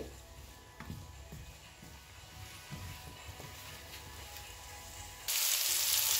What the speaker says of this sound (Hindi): इसे अच्छी तरह से इसे फ्राई करेंगे।